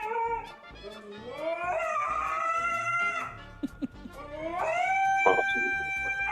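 A caller's voice imitates a husky howling at the moon, rising and wavering long howls with a brief pause between, fairly close and loud over faint background.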